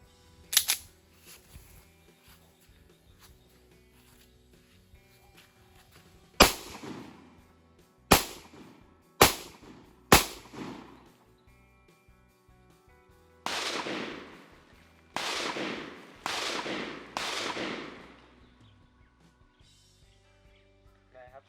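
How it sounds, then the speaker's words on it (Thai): SIG P365 pistol fired outdoors in a private forest area at a steel military helmet, with sharp loud reports: one early shot, then four spaced shots, then four more with echoing tails, and quiet gaps between. "มาลองยิงดูกับหมวก เหล็กทหาร"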